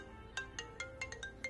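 A mobile phone rings with a rapid repeating electronic melody of short chiming notes, about six evenly spaced pulses, faint and slightly distant.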